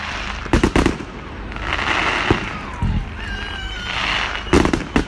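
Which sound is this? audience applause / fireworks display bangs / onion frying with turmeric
fireworks display bangs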